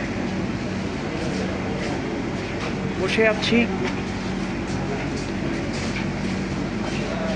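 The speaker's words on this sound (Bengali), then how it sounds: "আমি এখন মেট্রো রেলে উঠেছি, ট্রেনে উঠেছি" Inside a Dhaka metro rail carriage waiting to depart, a steady air-conditioning and train hum fills the space while someone speaks briefly over the constant background.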